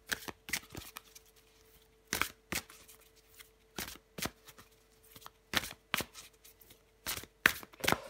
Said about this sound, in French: je vais prendre encore une carte pour vous les scorpions